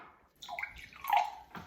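Lime-flavoured Sprite fizzes and gurgles for a moment, close up and fairly quiet, with no talking.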